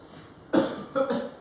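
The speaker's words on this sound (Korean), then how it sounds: "그만 기침하라고." Two quick, close coughs break out from a person, the second softer and slightly longer, separated by a brief pause over a quiet room hum.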